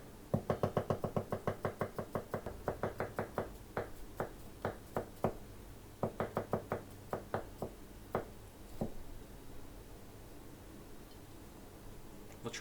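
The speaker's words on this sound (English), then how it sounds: "Let's start by slicing up those onions." A knife chops onions on a cutting board in fast, rhythmic knocks, with a steady run of strokes that slows into separate bursts before trailing off.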